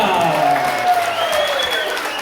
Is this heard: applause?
yes